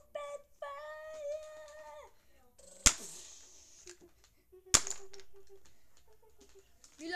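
Nerf blasters fire two sharp, loud snapping shots a couple of seconds apart, each followed by a short rattle, after a brief burst of vocal sounds at the start.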